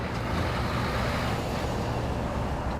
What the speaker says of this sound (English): And that's the engine brake.